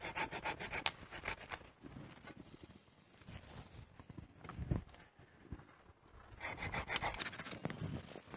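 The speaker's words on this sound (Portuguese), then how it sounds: "O serrote de poda é bom que ele não deixa lascar" Pruning saw cutting through garden wood in a vegetable plot, rapid rhythmic rasping strokes in bursts with a pause in the middle, close and moderately loud.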